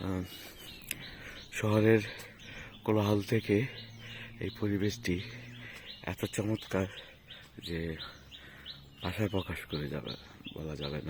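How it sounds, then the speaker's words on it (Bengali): Small birds chirp and tweet in short scattered bursts around a quiet village in Dighinala in the early morning, heard under someone speaking close by. "আশেপাশে হয়তো আপনারা শুনতে পাচ্ছেন পাখির কিচিরমিচির শব্দ।"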